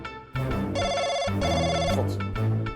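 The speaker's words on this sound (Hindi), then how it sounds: "फोन आ रहा है।" An electronic telephone ringtone plays a bright, repeating melodic tone pattern, close and clear, with no talking.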